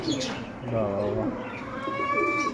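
Pigeons coo in a bird shop in Serampore, soft throaty calls layered over one another at close range, with someone talking over them.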